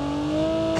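An enemy vehicle engine in Call of Duty Mobile battle royale hums steadily with a slight rise in pitch, one short continuous stretch of loud game audio with no speech.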